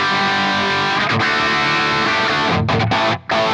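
Distorted electric guitar played through blended ML Mars PR cabinet impulse responses, a dense, loud sustained chord-driven tone with brief breaks near the end.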